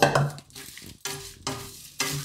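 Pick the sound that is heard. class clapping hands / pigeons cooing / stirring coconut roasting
stirring coconut roasting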